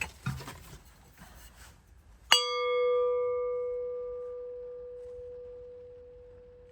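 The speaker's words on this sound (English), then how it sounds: "Referring to that as a gong is actually a little problematic. That is a bowl." A single strike on a metal bowl used as a gong rings out with a sudden attack and a long, pure, slowly fading tone, following faint rustling.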